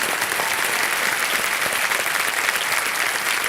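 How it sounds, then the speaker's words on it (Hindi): A studio audience on the Hindi quiz show Kaun Banega Crorepati claps loudly and continuously, a thick unbroken wall of applause with no talking. "जोरदार तालियां बज जाए इनके लिए।"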